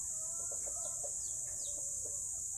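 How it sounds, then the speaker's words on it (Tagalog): A red hen gives a run of short, close clucks over a loud constant high-pitched buzz, with a few faint rising chirps among them. "Ito ang isang inahin na mapula."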